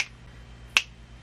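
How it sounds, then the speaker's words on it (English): A single sharp finger snap rings out clearly in a quiet room, one crisp click after a faint soft tick at the start, with a low background hum. "I'm gonna snap my fingers."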